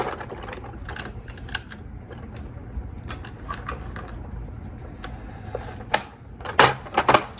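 Sewing machine stitching fabric for a shirred dress, with a freshly wound bobbin and thread tension set high. A steady close mechanical whir with fast ticking runs throughout, then grows louder in a few sharp bursts near the end, with no talking.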